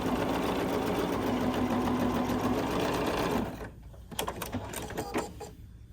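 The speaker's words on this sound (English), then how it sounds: "I'm just so excited about using this machine that I'm going to sew on it" Sewing machine running a quarter-inch quilt seam in one steady, loud mechanical whir that stops after about three and a half seconds, followed by faint handling clicks and rustles.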